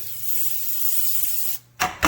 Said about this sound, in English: And you wanna spray this really good now